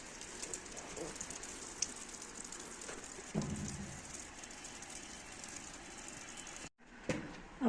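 Steady, dense rain pours down in a Kashmiri village, a continuous hiss of drops on surfaces with a brief dip near the end and faint bird calls mixed into the wash.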